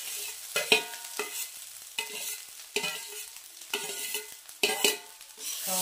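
Chow mein being stirred and fried in a pan with egg bhujia and kasuri methi, with repeated scraping strokes over a steady sizzle, close and fairly loud.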